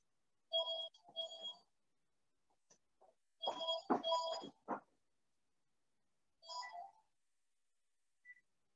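A telephone ringing during a lecture, with electronic trilling rings in separated bursts that repeat with pauses, fairly faint, followed by a short final chirp.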